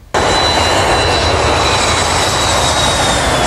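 An airplane's engine roars loudly and close, a sustained broadband drone with a thin high whine that starts abruptly and holds steady throughout.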